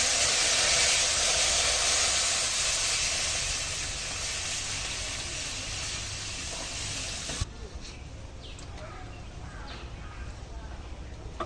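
Lentils (dal) hitting hot coconut tempering for bitter gourd dal, a loud steady sizzling hiss that eases over several seconds, then settles into quieter bubbling and crackle.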